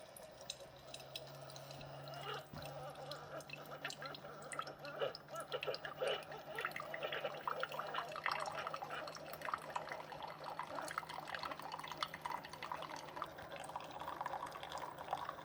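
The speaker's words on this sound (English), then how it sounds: "it's not very loud, and it starts brewing right away" A Keurig K-Express pod coffee maker brewing: a steady trickle of coffee pouring into a cup, with a low continuous machine hum underneath, fairly quiet throughout.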